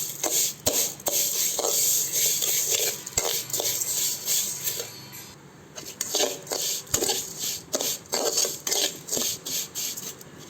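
Vermicelli fries in a little oil in a pan while a spoon stirs and scrapes it, making repeated sharp metallic clinks and scrapes over a faint sizzle. The stirring pauses briefly midway, then picks up again.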